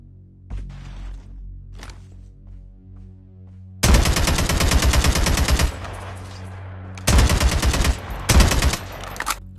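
Gunfire in Call of Duty Mobile comes as loud, rapid automatic bursts: a long stream, then two shorter bursts, preceded by a few isolated clicks and soft shots over a low game hum.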